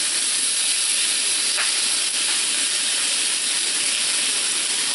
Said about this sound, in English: right here on my hot cast iron skillet, just going to place these chopped right down here